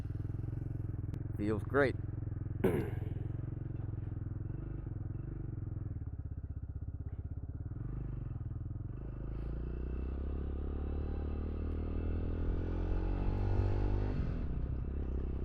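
Walmart single-cylinder motorbike engine fired up and left running, an uneven idle that chugs and rumbles, then revs up and down near the listener, with a person speaking briefly over it.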